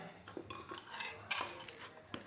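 A metal spoon scrapes and clinks against a bowl while sugar is mixed into mashed Irish potatoes, giving quiet irregular taps and scrapes with one brighter clink near the middle.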